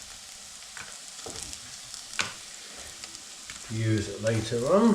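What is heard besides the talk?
paneer frying in a pan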